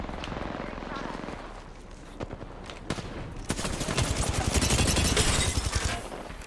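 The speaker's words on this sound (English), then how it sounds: "Getting shot at." Video game gunfire, bursts of rapid shots that build into heavy sustained fire toward the end, heard under a player's ongoing talk.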